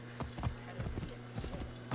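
Horse hooves clip-clop at a steady trot in Assassin's Creed Origins, a run of quick, evenly spaced thuds at moderate volume over a low game hum.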